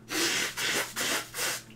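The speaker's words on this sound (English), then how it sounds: "I'm blowing my nose, look." Someone blows their nose in four breathy, rough honks with short gaps, close and fairly quiet.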